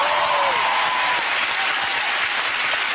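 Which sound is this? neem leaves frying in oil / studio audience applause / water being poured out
studio audience applause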